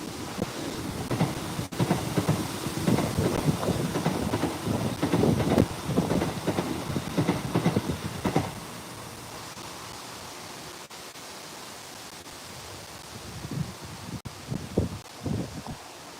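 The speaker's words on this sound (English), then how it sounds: "That train that's just gone past is brand new." A brand-new Avanti class 807 train passes nearby as a loud, broad rushing roar with rattling for about eight seconds, then fades to a quieter hiss with a few short knocks near the end.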